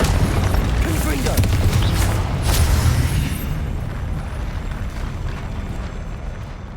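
Booming spell blast from Confringo in Hogwarts Legacy on PS5, a dense rumbling explosion that swells around the middle and then rolls away, loud and continuous, with game sounds underneath.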